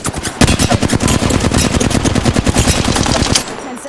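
A Flatline assault rifle from Apex Legends fires in sustained rapid bursts, loud and close, with a dense rattling rhythm lasting over three seconds before stopping abruptly.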